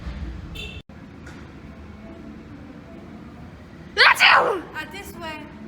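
A single loud, sharp sneeze bursts out close by after a stretch of quiet background noise, followed by a brief breathy trail.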